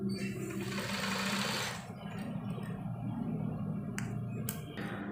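Electric sewing machine stitching the side pocket of a koko shirt, a close, rapid mechanical whir running in short bursts with pauses and small clicks in between.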